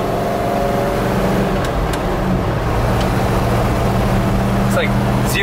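A truck with a High Boy 390 engine and Sniper 2 EFI driving in 105-degree heat, a loud continuous engine drone over road rumble, with people talking over it.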